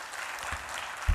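Applause from a church congregation during a morning sermon, a steady wash of clapping through the whole short stretch that swells briefly at the very end.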